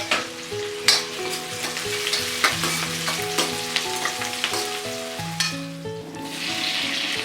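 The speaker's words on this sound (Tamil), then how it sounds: "கூடவே வந்து ஒரு 2 பச்சை மிளகாவும் கொஞ்சம் கருவேப்பிலையும் போட்டுட்டு இதை வந்து நல்லா வதக்கி விட்டுக்கலாம்." Onions, green chillies and curry leaves sauté in hot oil for an Indian veg lunch, a steady loud sizzle broken by clinks and scrapes of stirring, with no talk.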